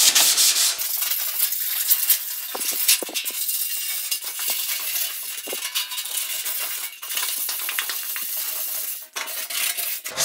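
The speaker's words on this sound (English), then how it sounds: "Your paper should be clean when you're sanding." Sandpaper is rubbed by hand across a sheet metal panel being prepped for epoxy primer, a continuous close, hissing scratch with uneven strokes and small gaps, alone without talk.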